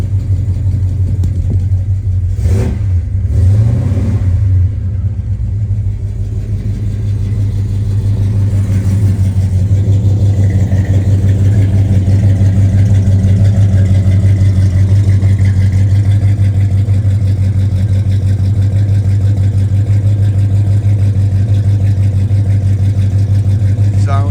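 A 1967 Chevrolet Chevelle engine rumbles steadily at idle throughout, loud and close, with a low, even drone and no sharp revving.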